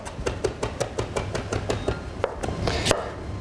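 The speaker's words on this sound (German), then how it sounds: "Durch das Drehen der Kräuter kriegt man es schneller fein gehackt." A knife finely chops chives, parsley and chervil on a board, with the herbs turned as they are cut; about fifteen crisp, evenly spaced strikes sound close and loud, with no voices.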